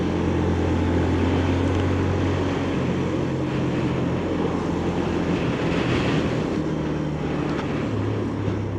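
A Benelli motorcycle drones steadily through a run of twists and curves, its engine note holding fairly even under heavy wind rush, with slight pitch shifts and no pauses.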